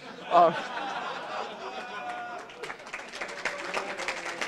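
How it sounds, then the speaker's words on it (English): A conference audience at a security talk gives a short burst of applause mixed with chuckles and crowd chatter, loudest at the start and then settling into a murmur of talk and scattered laughter. "So again, some people applaud."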